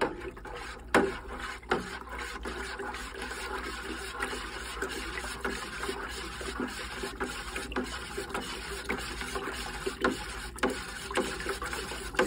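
Nutrient-laced water sloshes and swirls as a hydroponic bucket is stirred, soft repeated scraping and splashing strokes in an irregular rhythm, close and fairly quiet.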